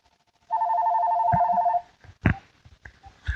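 A telephone rings once in a clear sustained electronic tone for about a second and a half, loud and close, followed by faint knocks and handling noises.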